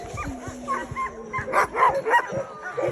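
Sled dogs from the Iditarod race barking, yipping and whimpering in a busy overlapping chorus at close range, with brief voices in the background.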